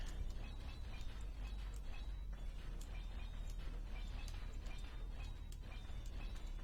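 Rapid mechanical clicking and ratcheting from a hand grinder cutting down blocks in the video game Space Engineers, dense and continuous with sharp metallic ticks throughout.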